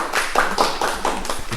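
A small group claps briefly with quick, light, slightly uneven hand claps, close by and lasting under two seconds.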